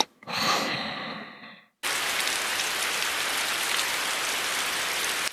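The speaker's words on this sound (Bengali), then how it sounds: "বৃষ্টি হচ্ছে বাহিরে।" Steady rain effect for a Bangla cartoon, a dense even hiss of falling rain outside that starts abruptly and keeps going, after a short burst of sighing breath at the start.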